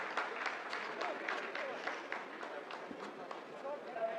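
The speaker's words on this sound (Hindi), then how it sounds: "आप इस तालियों के गड़गड़ाहट को सुन सकते हैं जो कि सेकंड हाइब्रिड फेज के कंप्लीट होने के बाद इन" Dense, steady applause from a room of scientists celebrating the completed phase of the Chandrayaan-3 lunar landing, sustained clapping throughout at moderate loudness.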